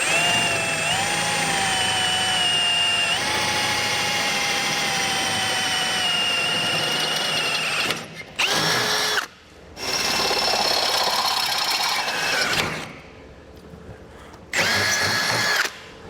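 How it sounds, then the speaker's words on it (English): A power drill whines steadily through a thin metal bumper beam on a 2018 Ford Edge, stopping and restarting several times with short pauses between loud, close bursts. "So we'll take our bit, line it up, and drill it out."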